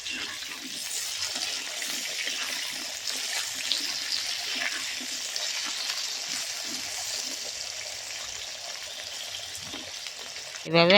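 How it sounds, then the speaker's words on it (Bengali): Potatoes frying in oil in a wok give a steady, even hiss that stays constant for the whole stretch, with a few faint knocks and a louder clatter right at the end. "পটল ভাজা হয়ে গেছে, এবারে আলুগুলো ভেজে নিচ্ছি।"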